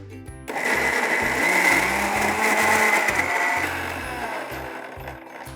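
A kitchen grinder whirs loudly as it grinds slightly warm cooked kidney beans into a paste for rajma kebabs, a steady high motor whine that comes in sharply after a short pause and runs throughout with a low rattling undertone.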